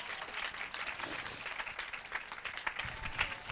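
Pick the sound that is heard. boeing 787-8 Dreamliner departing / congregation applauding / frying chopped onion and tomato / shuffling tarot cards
congregation applauding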